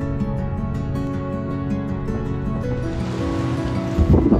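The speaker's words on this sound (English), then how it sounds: "Hiding out from the wind" Strong Patagonian wind in Torres del Paine roars steadily and loudly against the microphone, a continuous rushing buffet that swells a little toward the end.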